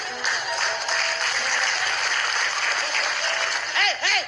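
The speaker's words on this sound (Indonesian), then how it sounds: "Nggak usah pakai tepuk tangan kalau buat dia." A studio audience at an Indonesian comedy show claps in a lively, sustained burst, with a voice breaking in briefly near the end.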